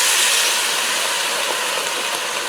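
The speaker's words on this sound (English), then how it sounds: "A 1/4 cup of apple cider vinegar because it's going to deglaze all that goodness from the bottom" Apple cider vinegar hits a hot Dutch oven for a braised beef roast, giving a steady, bright sizzling hiss that stays loud and even throughout, with no talking.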